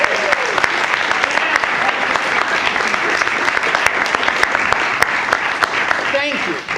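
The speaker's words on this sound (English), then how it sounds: "could every grown-up in the room give you a round of applause?" Adults fill a room with dense, steady applause for a group of school students at a community after-school program announcement, a continuous close wash of clapping with some voices underneath.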